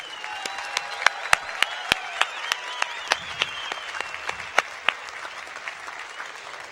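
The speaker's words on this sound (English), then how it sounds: "please join me in a round of applause for our amazing faculty and staff" At a 2015 Cal Poly spring university commencement, a crowd claps with sharp, distinct nearby hand claps standing out over a faint broad wash of applause, while a voice speaks at the start.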